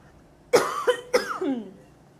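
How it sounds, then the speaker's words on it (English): Two harsh coughs from one person, close to the listener, each a short voiced burst, followed by quiet. "Pardon me, I have to cough."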